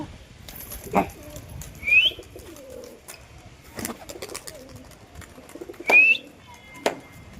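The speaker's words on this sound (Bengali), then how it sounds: "এই তিনটে কৌতা উড়ে গেল" Pigeons take off with sharp bursts of wing flapping, several distinct flurries spaced over a few seconds, mixed with soft cooing and a couple of brief high chirps, moderately near against quiet outdoor background.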